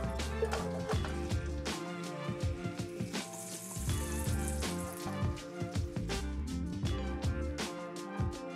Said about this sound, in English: Add in a stick of butter, and once it's melted, we'll add in our onions and let them cook for a few minutes until they soften up.